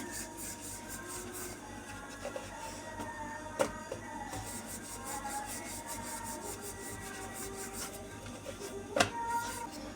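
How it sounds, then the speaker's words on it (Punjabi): A rolling pin works pizza paratha dough on a dusted board with light, repeated rubbing and scraping strokes, a steady close friction texture with a couple of sharp knocks, and no talking. "ਹੁਣ ਇਹਨੂੰ ਬਿਲਕੁਲ ਹਲਕੇ ਹਲਕੇ ਆਪਾਂ ਥੋੜਾ ਜਿਹਾ ਵੇਲ ਲਵਾਂਗੇ"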